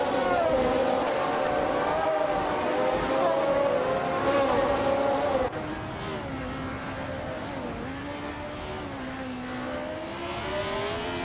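A Hill GH1 race car in a racing video game drones with a steady, loud engine, its pitch shifting as it accelerates and holds speed, with other cars audible around it.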